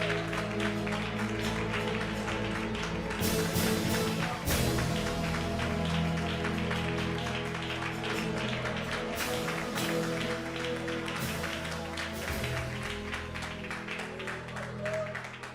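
A church congregation claps together in steady, sustained applause over music, with a voice occasionally heard over the clapping.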